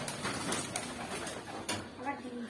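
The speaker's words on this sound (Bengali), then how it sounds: "এই যে সবকটা পায়রা আপনারা দেখতেই পাচ্ছ" A flock of pigeons coos in a steady, fairly close murmur, with a few sharper bursts that could be wings as the birds take off, over a constant background hiss.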